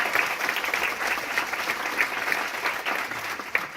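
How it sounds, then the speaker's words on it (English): Audience at a town hall event hosted by a county Democratic party applauds steadily, a dense, continuous wash of many hands clapping throughout with no talk over it. "Give them a round of applause."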